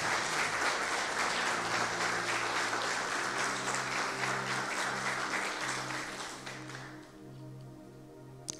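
Church congregation applauding, a dense sustained wash of many hands clapping at a distance, with tonal background music underneath that carries on as the clapping fades toward the end.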